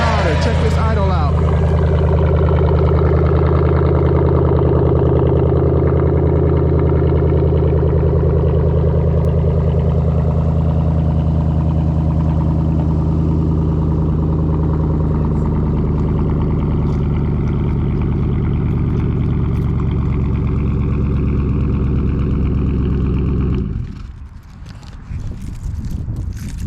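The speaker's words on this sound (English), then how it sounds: "Check this idle out." A 2020 pickup truck's V8 idles with aftermarket exhaust tips, a loud, steady low rumble that holds evenly for about 23 seconds before dropping away near the end.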